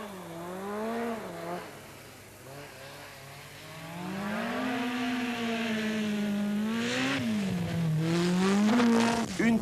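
A 450-horsepower turbocharged mid-engine rally car drives on snow at the 1986 Monte Carlo Rally, its engine note rising and falling through gear changes and revs, loud and close, building toward the end.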